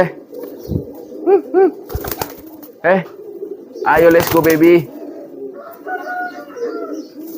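Pigeons coo in low, throaty bursts, with someone talking over them and a brief flutter of movement nearby.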